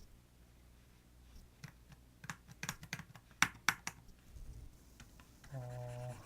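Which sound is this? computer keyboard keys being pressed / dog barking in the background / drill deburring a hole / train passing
computer keyboard keys being pressed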